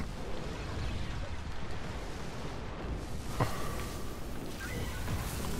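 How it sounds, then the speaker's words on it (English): Grenade blasts in the video game Destiny, a rumbling continuous barrage of explosions and bursts with whooshing debris, heavy and sustained throughout, with someone speaking underneath. "Just throwing grenades"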